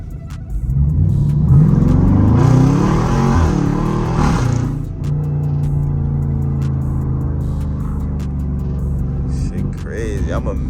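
SRT Jeep engine driven hard, a loud revving surge that climbs for several seconds then drops into a deep steady rumble up close, with a voice talking over it.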